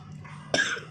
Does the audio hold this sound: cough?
yes